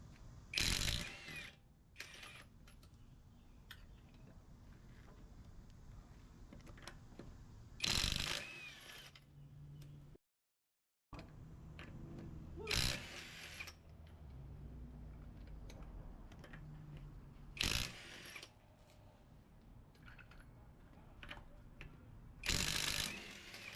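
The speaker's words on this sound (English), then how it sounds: "It looks like this Bauer brushless impact driver can handle 80 foot-pound of torque with ease." A Bauer 20V cordless brushless impact driver works the lug nuts on a car's back wheels, firing in several loud, separate bursts of rapid hammering between longer stretches of quiet background and small mechanical clicks, with no talk.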